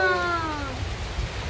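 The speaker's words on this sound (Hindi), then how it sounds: "बहुत तेज तेज बारिश हो रही है।" Heavy rain falls outside a home in a steady, soft hiss; a brief high, gliding, falling cry sounds over it at the start before the rain carries on alone.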